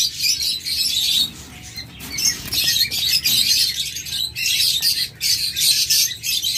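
A large group of diamond doves, a dealer's breeding stock, chirps and squawks in rapid clustered bursts separated by brief lulls, close and lively, with no one speaking.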